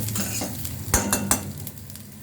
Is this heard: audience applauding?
no